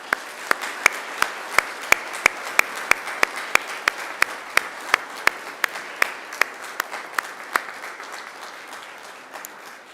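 Applause for families and friends at a Macquarie University graduation ceremony, sharp single claps landing in a steady rhythm over a soft crowd wash, fading toward the end.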